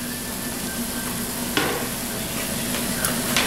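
Chopped carrots and mushrooms sauté in a hot pan for beef stew, a steady sizzle with a few scraping stirs of a utensil, close and without talk.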